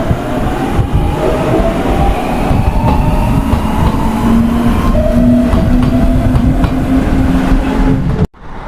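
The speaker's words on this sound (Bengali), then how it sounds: "ট্রেন কিন্তু যাচ্ছে" A nearly empty late-night local train from Durgapur to Bardhaman runs fast through darkness, with a loud, steady rumble and clatter and a few tonal whines rising, ending in a sudden short drop.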